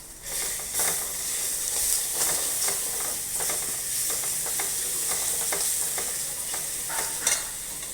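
Ginger and garlic fry in a hot pan for mutton chukka, a steady close sizzle and hiss broken by repeated scraping stirs of a spoon, with no talking.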